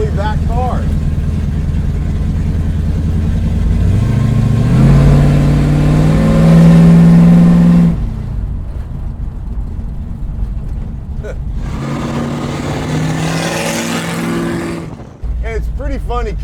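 A 1970 Dodge Charger R/T with a small 360 V8, a Fast & Furious picture car, revs loudly in bursts, its deep exhaust roar rising and falling close by, with someone talking in between.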